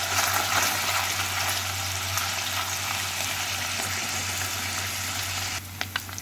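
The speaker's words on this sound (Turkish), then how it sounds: "Ben sadece kavuruyorum." Tomato paste sizzles in butter in a pan, a steady loud frying hiss with a low hum running underneath, then a few faint clicks near the end.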